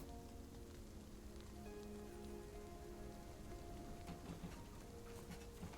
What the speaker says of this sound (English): A little bit of a downpour at the moment. Storm's blown in